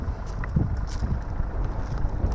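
Steady wind buffets the microphone in a continuous low rumble, with no voices.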